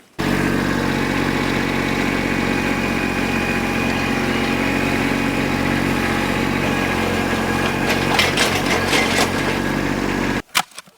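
A post hole digger drills a hole for a concrete pier in rain, striking rocks. Its engine roars loud and steady and close for about ten seconds. Rattling clatter comes near the end, then it cuts off abruptly.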